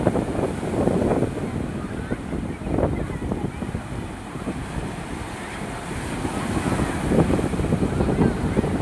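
Ocean waves washing up on a shore, a steady roar of surf mixed with heavy wind buffeting the microphone, loud and continuous with slow swells throughout.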